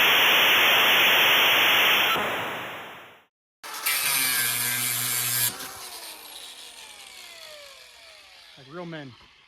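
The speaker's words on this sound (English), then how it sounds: "right now we're just gonna cut this bad boy off and fit it on there." A part being cut off by hand to fit wheel lights: loud, close rasping strokes with a hissy texture, then a brief pause and a tonal grinding burst that fades, and a short voice near the end.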